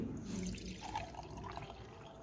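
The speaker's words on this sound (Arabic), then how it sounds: "غنديرو دابا نكبو الماء ملون" Coloured water poured into a container for a mass measurement in a school physics lesson, a steady trickling splash running continuously and fairly close, with no talk over it.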